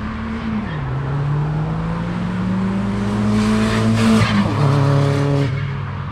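A car accelerating hard in a street pull near a cars and coffee meet, the engine note rising through several gear changes with a brief shift break, loud and close with no talking.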